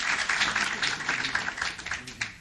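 Audience at a city council meeting claps in a steady, dense round of applause, continuous for the whole stretch at moderate loudness.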